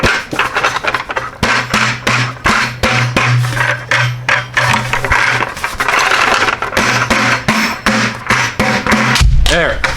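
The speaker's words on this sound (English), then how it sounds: "it finally fell out because I beat the snot out of the bucket" Plastic 5-gallon bucket holding a grit guard and filter being pounded hard, a rapid run of loud close hollow bangs and thumps with rattling, repeated steadily for about ten seconds.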